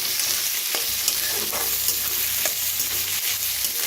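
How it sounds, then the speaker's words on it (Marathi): Onion frying in a pan for a spring onion (kanda pat) dish, a steady broadband sizzle with occasional scraping stir strokes, close and continuous with no talk. "आता त्याच्यातच कांदा भाजून घेऊया"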